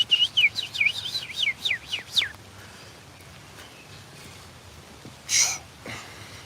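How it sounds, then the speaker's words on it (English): Birds chirp in a rapid, repeated series of rising tweets during the first two seconds while rain falls outdoors, followed by quieter background and one brief sharp call later. "Got the birds going."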